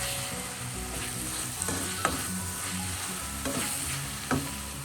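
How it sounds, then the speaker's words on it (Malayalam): Squid cooking with pepper masala in a frying pan, a constant close sizzle broken by several scraping strokes and light taps of the spatula as it is stirred, with no talk. "ഈ സമയം നമുക്കെല്ലാം കൂടെ ചേർത്തൊന്ന് മിക്സ് ചെയ്യും"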